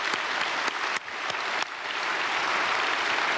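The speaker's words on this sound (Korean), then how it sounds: "박수." Congregation applauding during a Sunday church service after brass players are praised, loud and dense clapping from a large gathering, with a few sharp individual claps near the start before it settles into a steady roar.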